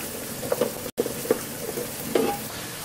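Ox cheek browning and diced mirepoix sweating in a pan give a quiet sizzle with a few soft stirring scrapes and clinks, one brief dropout partway through.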